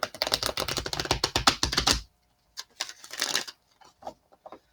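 A deck of tarot cards riffles in a fast, crisp burst of flutters, then after a brief pause comes a shorter second shuffle and a few light taps, close up with no voices.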